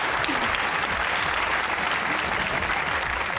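Steady, dense applause from a studio audience at a comedy talk show fills the space evenly and loudly throughout, with no pauses.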